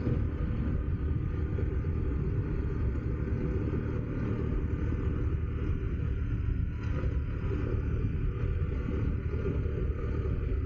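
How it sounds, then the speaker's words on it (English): A Harley-Davidson Pan America adventure motorcycle engine braking on a downhill run near a ski lift, giving a steady, loud low rumble of engine compression that holds constant with no voices. "that engine compression is just holding it back"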